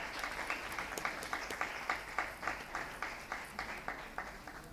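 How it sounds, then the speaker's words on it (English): School award ceremony audience clapping for a student of the year, a moderate, fairly distant applause with a steady rhythm of distinct claps over a roomy background. "We can clap for her better."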